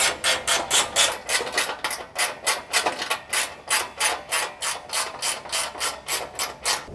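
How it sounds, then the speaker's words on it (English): Ratchet spanner clicking steadily while tightening a bolt on a Toyota LandCruiser 200 transmission guard, about twenty quick even ratchet strokes in a regular back-and-forth rhythm, close and clear with no talking. "Love the ratchet spanners."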